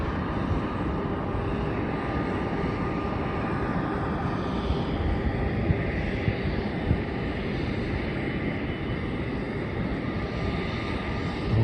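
A Jetstar airliner taxiing toward the north-south runway at Melbourne Airport, a steady heavy engine roar heard from some distance with wind noise, constant and unbroken throughout.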